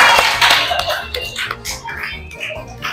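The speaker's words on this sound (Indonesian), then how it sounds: "tepuk tangan dulu untuk kita semua." A classroom group claps together, a short burst of brisk, overlapping hand claps close by, with a voice briefly audible.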